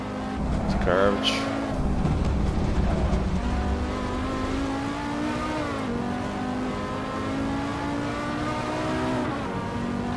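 Engine of a race car in Assetto Corsa on PS4, driven with a DS4 controller, revving up and down with a sharp rising whine early on, then a sustained drone through shifts while someone talks over it.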